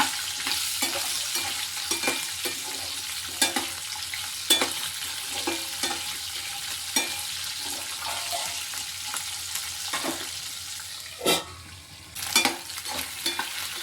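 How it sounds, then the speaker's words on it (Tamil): Peeled shallots and garlic sautéing in a pan for a garlic tamarind curry, a continuous close sizzle broken by repeated spatula scrapes and taps, with a couple of sharper clatters near the end. "சின்ன வெங்காயம் உரிச்சு வச்சுருக்கோம் அதையும் போடுவோம் எல்லாமே சேர்ந்து நல்லா வதங்கி வரட்டும்"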